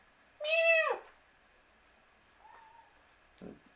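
A single close meow, followed by a soft faint chirp and a brief small noise, in an otherwise quiet room.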